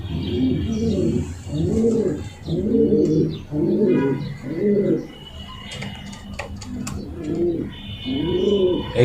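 A series of about seven soft, rolling coos from racer pigeons repeats in a steady rhythm, with a brief break midway filled by faint chirps and light rustling.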